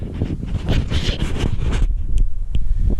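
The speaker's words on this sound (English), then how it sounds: "I thought it was a bit exposed here, but it wasn't windy, and it is now" Wind gusting against the microphone at an exposed spot in Spain in a steady low rumble, with a couple of short sharp knocks near the end.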